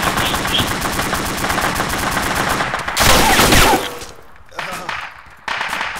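Bursts of gunfire from friendly teammates in ArmA 2 with the ACE mod, heavy automatic fire for several seconds, then a loud crashing blast followed by scattered quieter shots and gaps.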